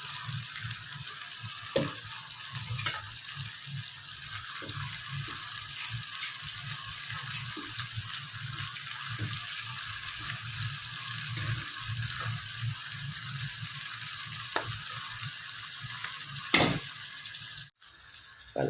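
Spinach sizzles in a frying pan, a steady soft crackle and hiss at close range with occasional stirring clicks and taps throughout, ending in a brief dropout.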